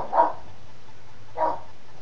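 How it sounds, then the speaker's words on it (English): Dogs bark twice, spaced about a second apart, sharp single woofs at moderate distance over a quiet room. "my dogs are barking."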